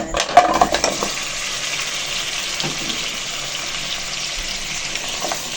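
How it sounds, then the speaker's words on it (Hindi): Whole cumin frying in beef bone stock in a pan, a steady close hissing sizzle with a few clinks and stirring knocks at the start, continuing alone without talk. "इसको 3 से 4 मिनट हम फ्राई करेंगे"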